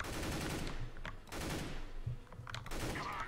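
Rapid bursts of automatic gunfire in a one-on-one video game match crackle repeatedly, dense and fairly loud, with brief pauses between volleys and no voices.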